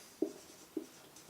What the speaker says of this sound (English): Get a bit of paper and draw your own timeline.